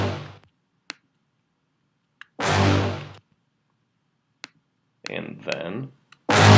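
Soloed horn stabs from a riddim track hit in short separated bursts, a few brassy blasts with silent gaps and small clicks between them, dry and close.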